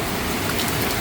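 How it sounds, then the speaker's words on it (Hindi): Heavy monsoon rain pours across the Dehradun hills, a dense, constant hiss of drops close by, steady for the whole short stretch with no voices. "बहुत दूर से दूर तक बारिश हो रही है"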